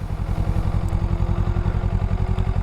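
A Kawasaki Eliminator 500 motorcycle engine while riding, a steady close throbbing drone with an even pulsing rhythm and no voices over it.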